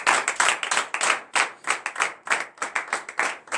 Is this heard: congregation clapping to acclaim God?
yes